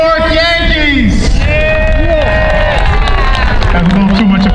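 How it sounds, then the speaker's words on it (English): Applause and cheering fill a stadium ribbon-cutting ceremony at Hinchliffe Stadium, a loud crowd with shouting voices rising over the clapping throughout. "That's a little too much applause right there."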